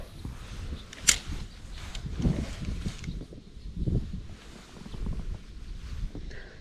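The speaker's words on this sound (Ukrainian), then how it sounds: "Сьогодні у нас тут вітряно." Steady wind rushes and buffets the microphone outdoors while fishing for perch, with low gusty rumbling and no voices.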